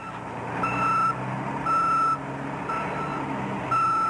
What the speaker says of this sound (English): Well, that's a pretty heavy-duty truck with that boom on it.